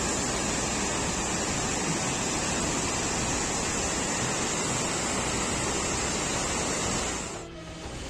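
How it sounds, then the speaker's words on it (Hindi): A waterfall roars on the Shrikhand Kailash trek in the Himalayan mountains, a dense, loud, continuous rush of falling water. It fades slightly near the end. "Beautiful waterfall."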